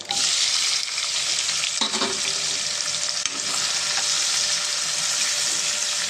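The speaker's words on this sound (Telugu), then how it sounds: "ఇవి బాగా ఫ్రై అవ్వాలండి" Two onions and two green chilies frying in oil in a pan for a village-style drumstick, egg and dried prawn curry: a loud, steady, close sizzle throughout, broken by one brief stirring scrape.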